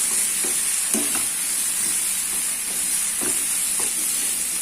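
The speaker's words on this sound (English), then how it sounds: "The masala should not get burned. Just cook it for half a minute." Masala spices frying over a low flame for a butter chicken sauce, with a steady soft sizzle and occasional stirring scrapes close by and no talking.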